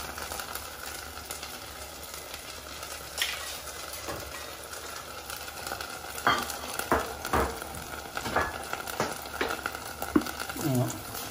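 Sauce forestière stirred in a pan with added water, a soft steady sizzle underneath with intermittent scraping and clinking of the utensil growing busier toward the end.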